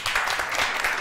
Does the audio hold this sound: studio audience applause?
yes